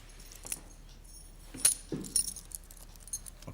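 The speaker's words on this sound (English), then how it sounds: "Give the keys to Rory." Keys jangle as a ring is handed over during a tense hostage standoff in a school, several light metallic clinks in short bursts, close and fairly quiet with no talk over them.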